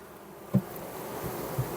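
Honey bees buzz softly and continuously nearby at a hive, with a couple of brief louder thumps or bumps close to the microphone.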